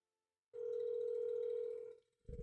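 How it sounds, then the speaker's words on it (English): A steady telephone dial tone as a call is placed, a single sustained clear tone holding for about a second and a half before cutting off, followed by a brief click. "I'm calling Abby."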